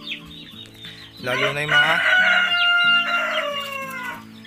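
Backyard-farm chickens crowing and clucking, with one loud close rooster crow rising and holding over a run of softer clucks; someone speaks briefly at the start.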